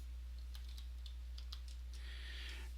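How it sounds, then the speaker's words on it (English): Computer keyboard being typed on, a short run of quiet, separate key clicks at an uneven pace over a low hum, with a faster burst toward the end. "I'm going to type in ETZ."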